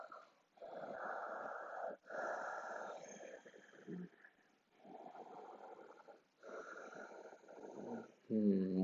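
Slow, audible breaths fill a yoga class, long inhales and exhales in steady cycles, soft and close, with a brief voice at the very end.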